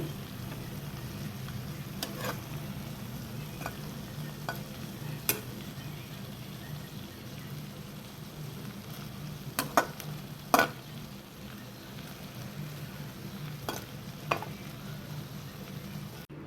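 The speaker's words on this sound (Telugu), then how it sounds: "టమాటాలని సిమ్లో పెట్టుకొని మగ్గనిద్దామండి" Chopped tomatoes simmer in a pan on low heat for tomato chutney, a soft, steady sizzle with occasional sharp clicks and taps of a stirring utensil, quiet and close with no talk.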